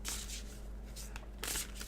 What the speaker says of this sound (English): Let's pull an angel answer card, Gemini, and see what else you have